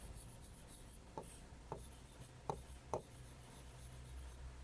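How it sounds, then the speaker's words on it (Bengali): A pen scratches across paper in a quiet classroom setting, a few short faint strokes over a steady background hum. "এখানে লিখলাম দে।"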